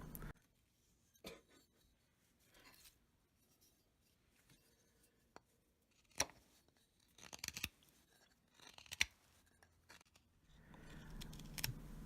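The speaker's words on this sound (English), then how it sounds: "But end grain is much harder to cut through." Knife blade carving across the end grain of a wooden hammer handle, giving sparse scraping and crunching cuts with long quiet gaps, a denser stretch of shaving near the end, close and fairly faint.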